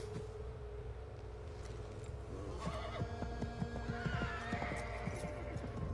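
A horse whinnies loudly in Assassin's Creed 3 over steady clip-clopping hooves and a low background rumble, with a game-like mix of ambient sounds.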